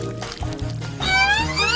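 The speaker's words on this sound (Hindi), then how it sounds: "बर्फ के साथ थोड़ा ठंडा पानी लेंगे और इस कैंडी बार को उसमें डालेंगे" A candy bar dropped into ice-cold water with ice gives a short watery plunk and slosh, fairly close, followed by a brief liquid swirl.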